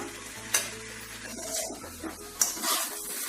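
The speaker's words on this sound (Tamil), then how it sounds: "அப்பப்ப பார்த்து கிளறி விட்டுக்கோங்க" Sago upma being stirred in a pan, close and moderately loud, with soft scraping and a steady low sizzle, broken by two sharp utensil knocks against the pan.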